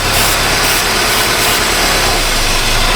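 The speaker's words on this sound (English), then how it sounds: "hear the engine change tone" A Honda Civic engine with a suspected vacuum leak and missing cam signal idles loudly and close up, a dense steady rumble with slight shifts in tone, no voices.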